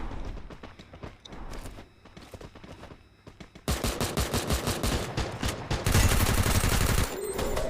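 Rapid bursts of gunfire in the video game Free Fire, automatic weapons rattling continuously and growing louder, with dense overlapping shots.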